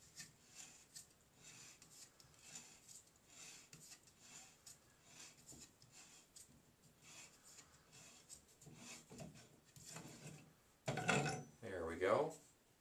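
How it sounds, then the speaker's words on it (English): A wrench slowly unscrews a corroded, greening tub shower fitting, giving faint metallic scrapes and creaks under quiet talk, then a couple of louder clanks and grinding turns near the end. "And we'll slowly unscrew this."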